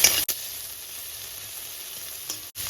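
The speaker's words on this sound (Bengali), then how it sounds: "এইবার ভেজে নেব মাছের মাথাটা তার মধ্যে দিয়ে দেবো দুটো শুকনো লঙ্কা আর দিয়ে দেবো দুটো কাঁচা লঙ্কা দিয়ে খুব ভালো করে ভেজে নেব" A fish head fries in hot oil with two dried and two green chillies, giving a loud, even sizzle close up, with a sharp cut near the start and another near the end.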